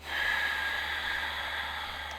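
A single deep inhalation during a rabbit pose in a yoga flow, a steady airy breath sound lasting about two seconds, close and soft, with no talking.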